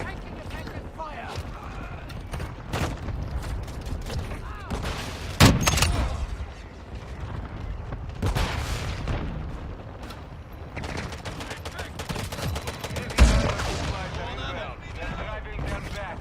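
Gunfire in the Call of Duty Modern Warfare II video game, with dense bursts of shots and two heavy booming impacts, all under game radio chatter.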